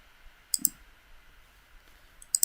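A computer mouse clicks on an on-screen button in a quiet room, a couple of soft, sharp clicks near the start and another pair at the end, faint and close.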